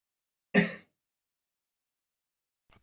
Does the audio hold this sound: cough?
yes